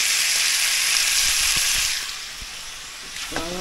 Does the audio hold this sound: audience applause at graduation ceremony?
no